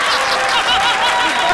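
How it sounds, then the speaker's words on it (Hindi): A studio audience at the Comedy Circus stage show breaks into brief applause, a burst of clapping mixed with a few chuckles and murmurs. "ताली।"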